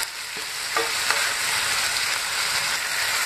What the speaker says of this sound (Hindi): टमाटर को भी अच्छे से भून लेंगे एक से दो मिनट।